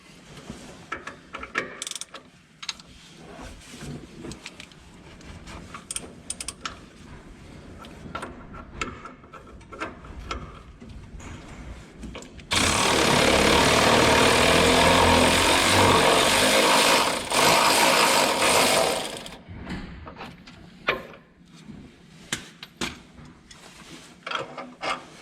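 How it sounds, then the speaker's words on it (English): A wrench works on 21 mm idler arm bracket bolts of a 2007 Chevy Silverado 2500HD, giving scattered metallic clicks and scraping, then a loud, sustained grinding rasp for several seconds before quieter clinks return. "We got 2 bolts, which are 21 millimeter. And we got our crescent wrench up there for the other side."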